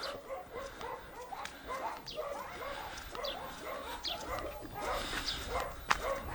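Several farmyard dogs barking and yipping in a rural household yard, a steady stream of overlapping barks at moderate distance with a busy outdoor background and no speech.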